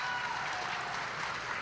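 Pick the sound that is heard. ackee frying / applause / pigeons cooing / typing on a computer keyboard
applause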